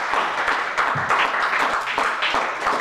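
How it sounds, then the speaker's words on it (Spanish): A church congregation applauds at a Pentecost miracle service, a sustained burst of many hands clapping together at moderate loudness throughout. "Démosle un aplauso fuerte al Señor."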